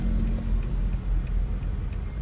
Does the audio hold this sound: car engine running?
yes